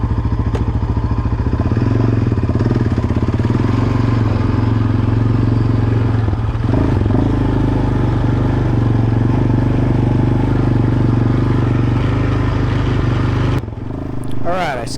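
Continuous engine drone from a Street Speed 717 four-wheeler on a ride with a manual clutch, holding a steady pitch close up before cutting away near the end, with a voice heard over it.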